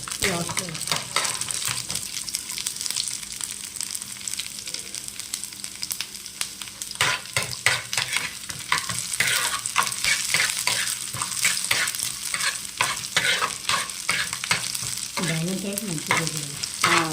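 Mustard seeds and cumin sizzle in hot oil for a tempering, a loud steady crackle and hiss with rapid popping throughout, close by and without talk.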